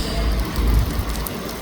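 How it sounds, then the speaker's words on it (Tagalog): Heavy overnight rain falls in Dammam, Saudi Arabia, a dense steady hiss of downpour for a brief moment with no voices. "Lakas ng ulan guys."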